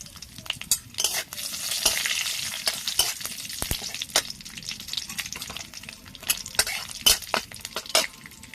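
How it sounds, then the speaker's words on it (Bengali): Five-spice and three green chillies frying in hot oil with a little salt, a steady close sizzle broken by sharp crackles and pops throughout. "তেলটা গরম হয়ে গেছে, এবার দিয়ে দেব 5 ফুটান, 3টা কাঁচা লঙ্কা"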